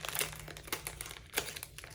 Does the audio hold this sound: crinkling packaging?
yes